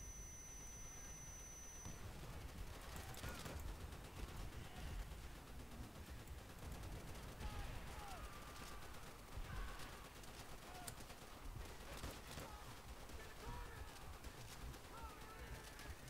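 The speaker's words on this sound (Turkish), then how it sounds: "Lan adam vuruyor." Enemy gunfire in Call of Duty: World at War, sharp scattered shots and bursts cracking repeatedly over a busy battlefield backdrop with chirping bird-like sounds, moderately faint throughout.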